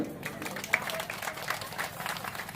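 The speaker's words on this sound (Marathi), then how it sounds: "टाळ्या वाजून त्याचं स्वागत करूया" Crowd applause at a Maratha Seva Sangh Jijau Rath Yatra rally: a dense patter of many hands clapping, steady for a few seconds, with a voice over it.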